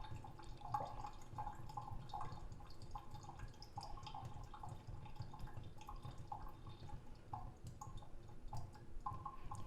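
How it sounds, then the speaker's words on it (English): Water drips steadily out of the bottom of a seed pot into a tray, a string of small, close, quiet plops in an irregular rhythm over a faint low hum, with no talking. "here you can see it's dripping out the bottom"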